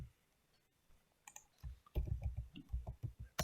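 Computer keyboard typing while writing Python code, a few light taps followed by a quick irregular run of close clicks, alone without talking.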